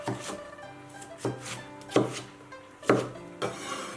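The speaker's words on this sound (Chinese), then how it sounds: "再用刀把黄瓜拍扁， 再用斜刀切成段儿" A kitchen knife smashes and then slices cucumber on a wooden cutting board, giving several sharp thuds and chops spaced about a second apart, close and clear with no talking.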